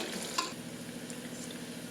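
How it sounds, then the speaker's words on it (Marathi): Onion, salted to soften faster, sautés in a pan for masala rice, giving a soft continuous sizzle with a faint stir or scrape near the start. "कांदा आपला परतलेला आहे"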